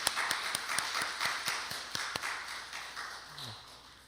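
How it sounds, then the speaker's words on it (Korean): A congregation at a Korean church's Sunday service claps for a deaconess: fairly quiet, sparse claps repeating at a steady pace over a soft room hum. "우리 집사님 위해서 한번 같이 박수로 좀 봐주셨으면 좋겠습니다"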